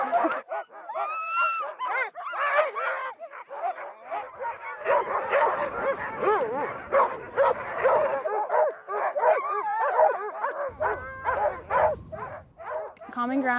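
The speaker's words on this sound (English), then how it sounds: "These dogs like to go, they don't like to stop." Sled dogs barking and yipping in a team before a ride, a dense, excited chorus of yelps, whines and barks close by, with people talking over them throughout.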